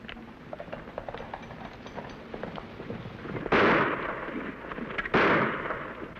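Two sharp gunshot bursts ring out in a western shootout, one about midway and another near the end, each loud and trailing off, over a busy background of rumbling and clatter.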